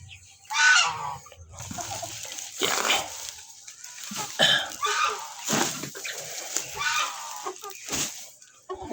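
Backyard chickens about two months old clucking in a rice-hull-bedded coop, intermittent close clucks and squawks in separate bursts with quiet gaps between them.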